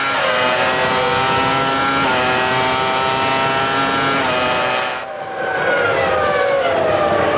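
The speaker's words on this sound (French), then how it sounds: "on écoutait le moteur V10 Renault de Villeneuve à la poursuite d'un autre V10," A high-pitched Renault V10 Formula 1 engine in Villeneuve's car at the 1996 Japanese Grand Prix screams continuously, rising through gears with brief shifts, loud and sustained, no voices.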